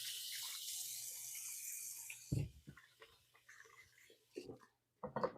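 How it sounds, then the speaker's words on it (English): Hands rinsed under a running kitchen tap during cooking of creamy Italian chicken pasta, a steady broadband rush of water for about two seconds, then short splashes and drips with quiet gaps. "Give my hands a quick rinse."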